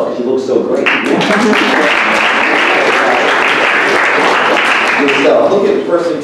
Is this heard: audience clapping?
yes